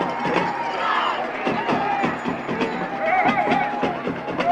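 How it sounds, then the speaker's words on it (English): Home crowd at a Cassville Wildcats high school football game on senior night roars steadily after a blocked punt, a dense sustained cheer with scattered shouts and claps, loud and continuous throughout. "I can see the crowd getting a little loud tonight as they cheer on Cassville"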